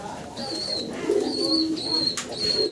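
Fancy pigeons kept for sale coo steadily in a low, rolling murmur, joined by brief higher bird calls, with the cooing layered continuously through the whole stretch at close range.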